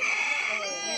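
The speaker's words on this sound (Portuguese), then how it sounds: "O galo não quer parar hoje." A rooster crows nearby at midnight, one loud, drawn-out call with a falling tail, heard close and alone.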